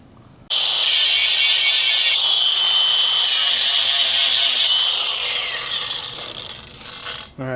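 Angle grinder cutting a V-groove into cracked metal before welding, a loud steady high-pitched grind lasting several seconds, then easing off as the tool winds down.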